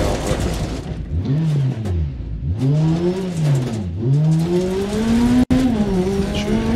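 Rally car in Dirt Rally 2.0 running on a punctured tyre, its engine loudly revving and dropping through gear changes in a continuous, close drone, with no talking.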